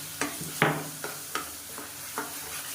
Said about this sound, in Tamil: இப்போ இதையும் நல்லா வதக்கி விட்டுக்கலாம்.